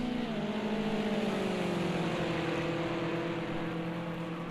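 BMW 320 touring cars roar down the start-finish straight in a sim racing game, engines droning steadily and climbing slowly in pitch as one car slipstreams close behind another, loud and continuous.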